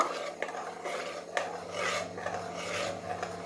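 A spoon scrapes and stirs thickening mango pudding mixture in a pan over a low flame, giving soft repeated rasping strokes with a few light knocks against the pan, quiet and close.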